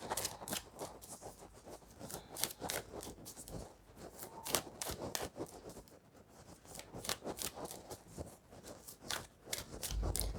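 Cards being laid out and handled during a card reading, a steady run of crisp snaps, slides and rustles throughout, close and fairly quiet.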